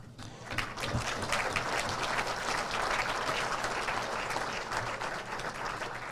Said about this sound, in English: I'll let him know that he got a tepid applause on that.